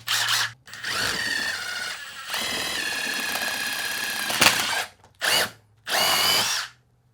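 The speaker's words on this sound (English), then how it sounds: "let's just use a drill bit, I guess. Let's go real big." A power drill whirs loudly up close, drilling a large hole through a tire, running in a long sustained burst and then in a few shorter bursts with brief pauses between.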